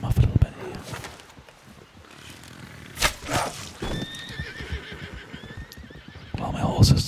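A horse neighs and whinnies in Red Dead Redemption 2, with hoof clip-clops and footsteps on an outdoor trail; the whinny comes mid-clip, fairly close, among scattered ambient rustles.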